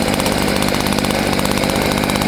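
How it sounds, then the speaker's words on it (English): A leaf blower's small gas engine sits at steady idle near a burning tree stump, a loud, even, rapidly pulsing drone throughout with no talking. "you could take a leaf blower, and this one here is just going to sit at idle"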